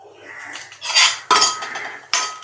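Fennel seeds, cumin and black pepper dry-roasting in a pan for mutton curry, heard as a few sharp metallic clinks and scraping clatters of a spoon against the pan, loud and close, with no talking.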